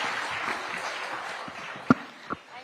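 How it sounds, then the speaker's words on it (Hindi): Applause from a conference audience for Akhilesh Yadav at a Lucknow conclave, a steady diffuse patter of clapping at moderate level, with a couple of sharper isolated claps near the end. "एक बार जोरदार तालियां अखिलेश यादव जी के लिए।"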